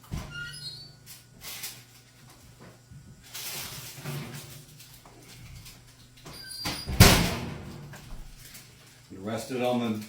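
An oven door opens with a squeaky creak to pull out baked donair meat, amid kitchen clatter and someone talking over it.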